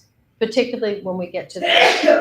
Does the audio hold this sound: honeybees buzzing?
no